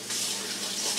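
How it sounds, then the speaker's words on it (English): Tap water running over a hand in a kitchen sink, a short steady hiss of flowing water close by and alone. "Let me rinse my hand."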